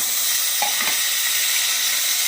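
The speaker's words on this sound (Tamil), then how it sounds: "நல்லா வதக்கணும் ரொம்ப வதக்கணும்" Tomatoes sautéing with green chillies in a pan for a bachelor-style chicken gravy: a brief, loud, steady sizzle heard close up, with a couple of faint stirring knocks and no talking.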